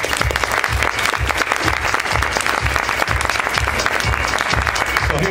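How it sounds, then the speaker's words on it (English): Dense, sustained audience applause at a training event fills the whole stretch, steady and loud throughout with no gaps. "Give them a round of applause."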